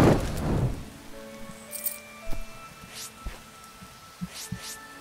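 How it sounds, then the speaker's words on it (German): Rain in the video game Starbound while exploring a planet, soft pattering drops with a brief louder burst at the start, then sparse scattered taps and faint tonal hums over a quiet background. "Wenn dann zu der Quest es regnet"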